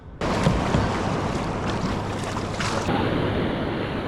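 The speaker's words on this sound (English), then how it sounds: "some of those waves are popping up 6 feet tall" Loud, continuous rush of Alaskan ocean surf, waves up to about six feet, and wind roars without a break, broad and turbulent, with a slight shift in tone partway through.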